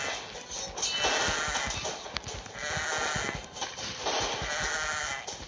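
Sheep bleat repeatedly in the Kingdom Rush video game, a dense flock calling over one another in near-continuous loud bursts, with faint shuffling underneath and no talk.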